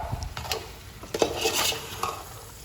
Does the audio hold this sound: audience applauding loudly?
no